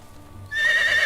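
A horse in the medieval life-sim Medieval Dynasty lets out a short, bright whinny that rises suddenly out of quiet background ambience and carries on loudly for about half a second.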